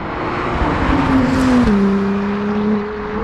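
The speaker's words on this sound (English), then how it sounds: "In Sport Plus and Track, it's like you get everything and it accelerates far quicker." A 2021 Acura NSX twin-turbo hybrid sports car accelerates hard, its engine note climbing steadily and loud, then settling briefly before rising again, heard close and alone.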